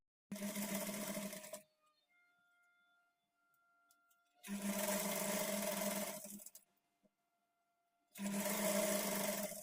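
Sewing machine stitching cloth for a front-slit designer kurti, running in three loud sustained bursts separated by quiet pauses.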